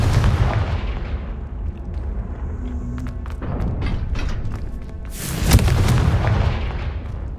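Confringo blasting spell in Hogwarts Legacy, with deep rumbling booms and thumps over a continuous battle din, including a sharp, loud burst of explosive impact near the end.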